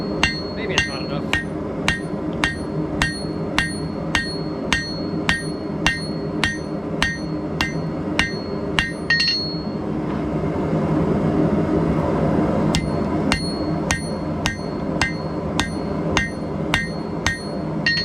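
A hammer rings in regular, evenly spaced blows on a 5160 spring steel san mai billet being forge welded. The strikes pause midway while a low hum fills the gap, then resume at the same steady pace.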